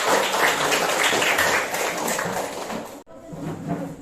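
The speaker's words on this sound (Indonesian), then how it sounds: "Oke, tepuk tangan untuk kita semua." A class of eighth-grade students claps together in a classroom, a dense, steady burst of applause that stops abruptly at about three seconds, then a softer patter of clapping resumes.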